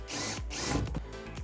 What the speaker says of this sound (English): So I'm going to drill through there and from the other side.